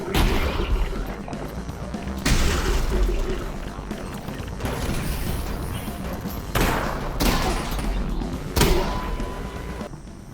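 An ambush in the VR game Half-Life: Alyx, with heavy gunfire shredding cover into splinters. Loud, dense crackling and crashing bursts keep on throughout, with sharper blasts standing out over a constant roar of fire and debris.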